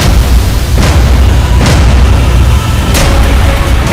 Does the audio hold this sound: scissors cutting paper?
no